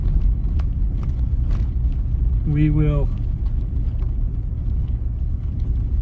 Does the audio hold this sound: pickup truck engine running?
yes